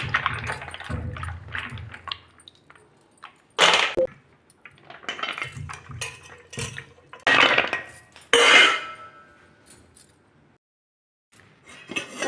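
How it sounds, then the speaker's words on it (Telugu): Fresh turmeric roots being rinsed of soil by hand in a vessel of water: repeated splashing, sloshing and clinking of pot and roots in bursts with short pauses, close and fairly loud, with no talking. "వాటర్ వేసి కడిగి మళ్ళీ కొంచెం నీళ్ళు పోసి నానబెట్టాం"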